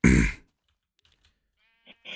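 A single loud sheep bleat from the Minecraft video game opens, then fades into quiet with faint keyboard clicks and a couple of soft taps.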